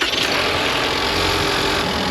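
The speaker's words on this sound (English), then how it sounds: "let's do the cranking test" A car engine cranked and running off a portable jump starter during a cranking test, a loud, steady, close mechanical drone that holds evenly for the whole stretch.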